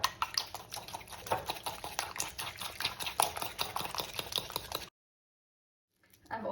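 Eggs being mixed for a banana walnut cake, a quick run of soft, wet clicking strokes against a bowl, fairly quiet, stopping abruptly into silence before faint stirring resumes.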